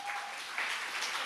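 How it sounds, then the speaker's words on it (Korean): Congregation applause during a Korean church worship service, a steady broad wash of clapping filling the whole short moment at moderate level. "우리 주님께 영광의 박수 올려드리겠습니다"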